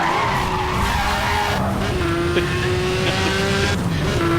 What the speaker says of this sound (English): I may have overdone that handbrake turn.